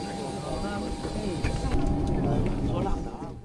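A Xi'an MA60 turboprop airliner with Pratt & Whitney engines drones steadily and loudly, with a continuous engine roar and a faint tonal whine, heard from inside the cabin.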